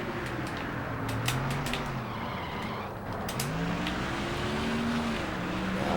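Race car engines drone in Nascar Thunder 2004 during the closing laps of the Subway 500, loud and continuous, with pitch swells as cars pass and bursts of sharp tire squeal over the engine noise.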